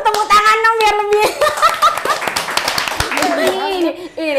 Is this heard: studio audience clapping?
yes